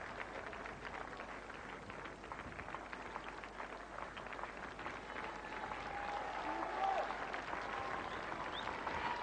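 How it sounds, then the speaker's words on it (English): Applause rolls from the players' balcony at a 1999 England versus New Zealand cricket test match, a continuous distant patter of clapping that swells slightly toward the end, with crowd murmur beneath. "Applause from the balcony."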